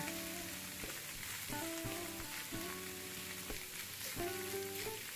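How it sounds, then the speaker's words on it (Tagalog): Tuna sautéing in hot oil in a heated pan, a steady soft sizzle with occasional stirring scrapes and clinks, fairly quiet and with no talking. "ilagay na natin yung mantika sa pinainit nating kawali, tapos ilagay yung tuna"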